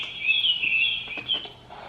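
Lullaby track on a Motorola MBP36XL portable video baby monitor playing rainforest birdsong: steady high chirping and tweeting continues through the whole stretch, moderately loud, with faint soft background sounds and no talking.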